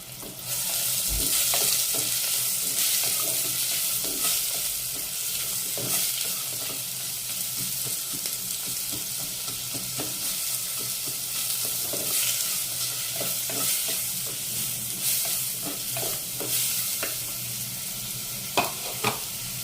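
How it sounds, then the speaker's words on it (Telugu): Onions sizzle and fry steadily in a clay pot for mutton gravy, a continuous loud hiss with occasional stirring scrapes and clinks, close up and with no talking. "నెక్స్ట్ ఆనియన్స్ వేస్తున్నాను."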